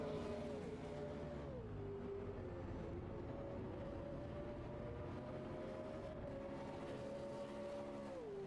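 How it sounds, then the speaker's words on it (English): A V8 Supercars race car engine in a racing video game at Sandown Raceway, droning at a steady pitch with brief dips as it shifts or lifts, moderately quiet and without talking. "Turn up the engine sound."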